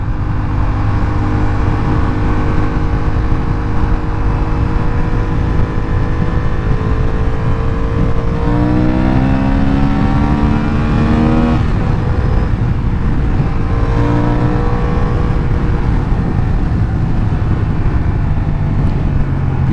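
A new Honda Hornet motorcycle engine drones loudly and steadily on a test ride, its pitch climbing and shifting as the rider accelerates through the gears, with constant wind and road roar.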